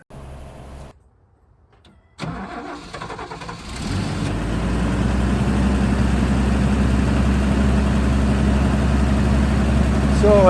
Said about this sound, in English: We'll give it a start and listen to that engine and go from there.